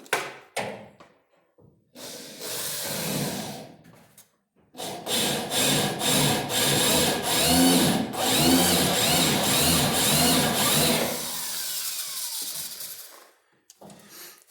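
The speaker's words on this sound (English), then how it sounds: "Start cutting out the rest of these spot welds." A power drill grinds and chatters through a car body's spot welds in a long, uneven burst during quarter panel removal, preceded and followed by short clanks and taps.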